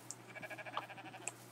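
A sheep in the Rising World video game gives a short, faint bleat with a wavering, pulsing tone, heard alone over a quiet background.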